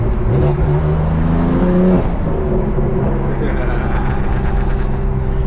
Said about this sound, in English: That's called rev matching, where you're downshifting.